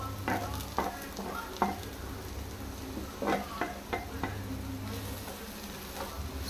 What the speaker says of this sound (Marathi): सोय आतां आमकां बरी भाजून घेवपाक जाय.